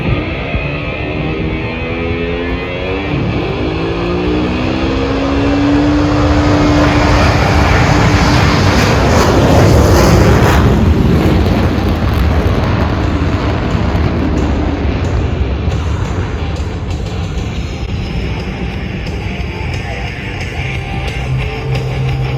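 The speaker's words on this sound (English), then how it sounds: "Smoke on, off brakes now, burners ready now, and the Blue Angel Diamond is rolling." Blue Angels diamond formation of jets rolling down the runway on afterburner at an air show, a loud continuous roar that swells and peaks midway then slowly recedes, with no talk.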